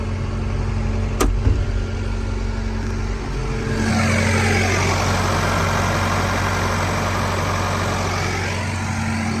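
A 1991 Claas Dominator 48s combine harvester with hydraulic unloading starts up: a faint idle hum, a brief click, then the engine catches around four seconds in and runs on at a steady, loud, broadband roar with no talk.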